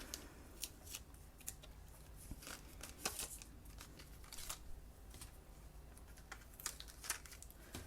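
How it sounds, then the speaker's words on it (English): Tape is peeled carefully off a paper card frame in small crackling tugs and crisp ticks, quiet and close, spread irregularly across the stretch with no voices. "I'm going to carefully take this tape off"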